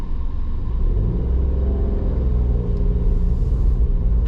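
A Citroen C1 engine hums and rumbles from inside the cabin while driving, a steady low drone with road noise and slight shifts in pitch, no voices.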